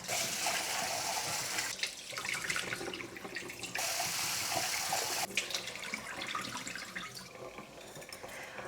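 Running water splashes steadily with brief pauses and shifts, as grains are swished and rinsed in a bowl; faint clinks of a container, no talking.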